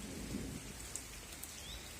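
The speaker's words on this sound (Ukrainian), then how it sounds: "більше гримить, як того дощу." Thunder rumbles under a steady hiss of light summer rain falling on surfaces outdoors on a morning, with a few sharper drops standing out and no voices.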